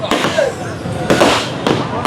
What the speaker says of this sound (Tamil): விடாமல் வெடி போட்டுக்கொண்டே இருக்கிறோம் மக்களே.